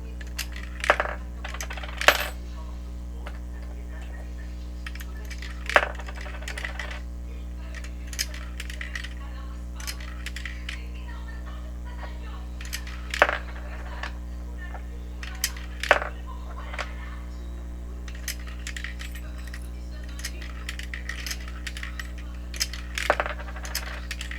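Coins drop one after another into a coin-operated vending machine during a demonstration, giving several sharp metallic clinks spaced irregularly over a steady low electrical hum, with faint talk nearby.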